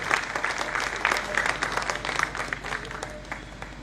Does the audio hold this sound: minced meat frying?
no